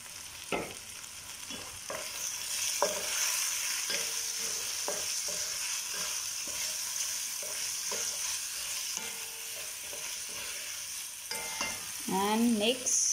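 Garlic fries in a pan for chicken machboos while a utensil stirs it, scraping and clicking now and then over a continuous close sizzle, with no one speaking.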